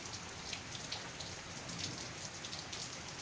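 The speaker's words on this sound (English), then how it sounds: "then suddenly we got a little shower" Light rain shower falling steadily after a dry spell in Kissimmee, a soft continuous patter of drops on surfaces, faint and even throughout with no voices.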